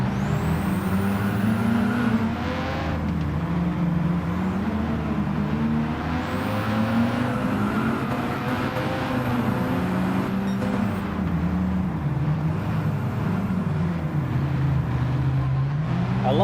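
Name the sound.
modified exhaust of red car in a racing video game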